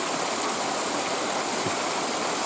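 Waterfall roaring nearby, a dense, unbroken rush of falling water at full volume throughout, with no voices.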